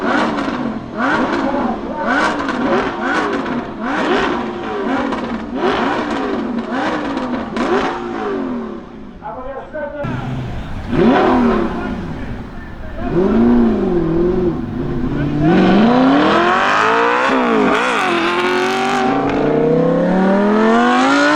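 A Liberty Walk LB Silhouette Works GT Lamborghini Huracán LP610-4 barks through a rapid series of loud, close revs, then pulls away with rising, surging acceleration.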